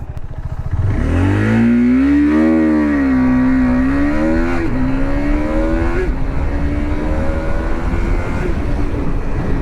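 A KTM RC 390 single-cylinder sport motorcycle revs hard and climbs through the gears, the pitch rising then dropping at each shift, loud and close throughout.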